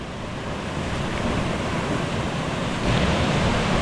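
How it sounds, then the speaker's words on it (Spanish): Loud, steady rush of a strong river current, a continuous broadband churn that swells a little stronger near the end. "La corrientita que tira está fuerte"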